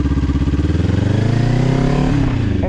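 A motorcycle pulls away from a stop close by, its engine thrumming steadily and loudly as the pitch rises.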